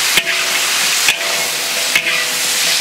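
Loach stir-fried with homemade chopped red chili in a wok, a loud, continuous close sizzle broken by three brief scraping stirs at roughly even intervals, with no talking.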